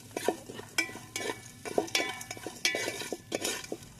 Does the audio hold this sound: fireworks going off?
no